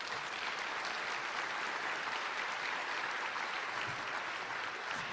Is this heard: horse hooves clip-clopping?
no